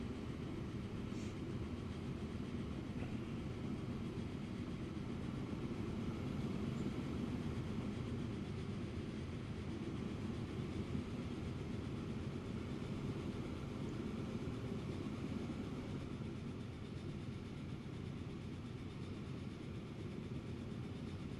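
A Big Boy steam locomotive in Transport Fever 2 accelerates as a steady, dense rumble that holds loud and unbroken throughout, with a faint rhythmic clatter of wheels over rails and no voices.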